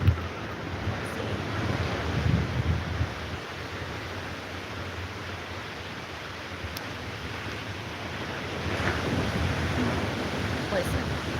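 Ocean waves wash onto a beach as a continuous, hissing surf mixed with wind buffeting the microphone, swelling slightly toward the end, with faint talk in the background.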